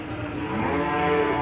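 A calf or cow moos at the Ambarketawang cattle market, one long, loud, close, low bellow that holds steady for well over a second.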